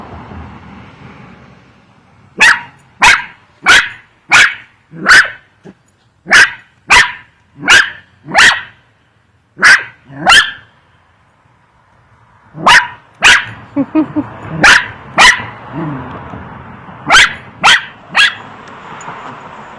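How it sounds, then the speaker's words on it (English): A dog barks at a gourd in a backyard pumpkin patch, repeatedly in loud, sharp bursts, about a dozen barks in quick runs with short pauses, close by and with no talking. "Yeah, you're barking at a gourd."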